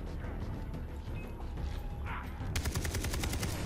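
A rapid burst of gunfire crackles near the end after mechanical clicks and shuffling, shooting in the video game Far Cry 3.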